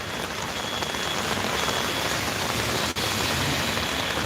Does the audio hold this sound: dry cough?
no